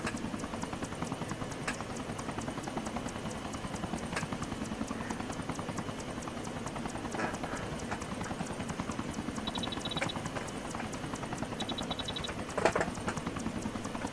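Helicopter in Arma 3 Exile, a steady rotor thrum and engine whine running continuously and fairly close, with a few faint clicks and beeps over it.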